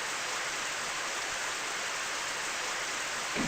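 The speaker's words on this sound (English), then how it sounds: "Well, it is raining." Steady rain falling in a My Little Pony RPG video game, a continuous even hiss that stays loud and unbroken throughout, with no voices.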